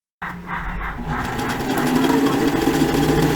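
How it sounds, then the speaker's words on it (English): A sewing machine zigzag-stitches elastic inside the top edge of a 70s-style jumpsuit, its motor starting abruptly and then running in a steady, loud, close mechanical whir that quickens slightly. "Attach the elastic inside the top along the excess edge and sew with a zigzag stitch."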